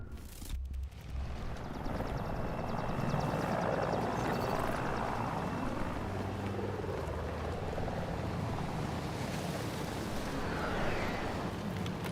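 Aircraft and vehicles rumble through a Battlefield 2042 battle, a broad, loud roar of rotor-like noise and wind that sweeps and swells for several seconds after a sharp opening burst, with no speech.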